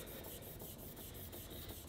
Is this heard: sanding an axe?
yes